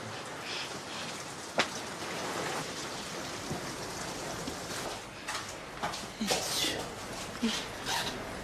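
Steady rain falling outdoors, with scattered louder drips and splashes, a sharp crack near the start and occasional muffled knocks under the downpour.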